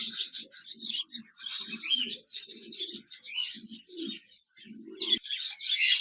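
A pair of budgerigars, also called Japanese budgerigars, in a cage, chirping and warbling rapidly in busy overlapping bursts, close and fairly loud with only brief pauses.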